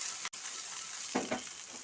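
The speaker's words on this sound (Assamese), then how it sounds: "এনেকৈ অকণমান ভাজি লৈছোঁ।" Chicken bones fry in a little oil in a hot pan, giving a faint, steady sizzle with a light clink and a couple of brief stirring scrapes.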